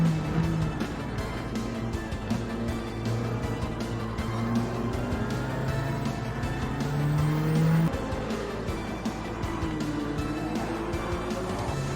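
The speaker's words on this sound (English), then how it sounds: "continuing to push these racing soft tyres to their limit as we move through them one by one" A Nissan Fairlady Z races on soft tyres in Gran Turismo 7, its engine holding a continuous rising and falling whine with shifting tones and brief tyre scrubs, loud and steady for the whole stretch.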